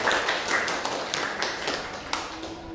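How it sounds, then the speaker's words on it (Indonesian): Classroom applause for a presenting student group, a brief patter of scattered claps from a small crowd that thins out over a few seconds. "Beri tepuk tangan dulu untuk kelompok 1."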